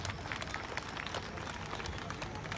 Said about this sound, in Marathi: त्याच्यासाठी आपण त्याचं अभिनंदन करणाऱ्या टाळ्या वाजवल्या पाहिजे.